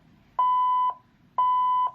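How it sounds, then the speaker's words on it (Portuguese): Two steady electronic beeps from an XPE 1013 BIO access controller, each about half a second long and evenly spaced, clear and close over a faint background hum. "Ele dá 2 bips."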